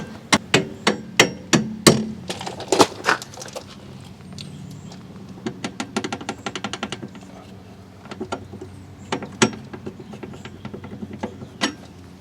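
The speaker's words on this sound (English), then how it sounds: "And using an impact wrench, we can loosen up that bolt. And I can then tap that out." Sharp metallic hammer taps knock against a rusted rear shock absorber bolt on a 2008 Hyundai Elantra, coming in quick bursts of several strikes with brief pauses, close and loud with no talking.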